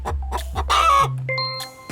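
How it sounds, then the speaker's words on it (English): A chicken clucks in several short bursts over a little under two seconds, close and fairly loud, with a sustained tonal call in the middle and a low steady hum underneath. "You're right, it's a chicken."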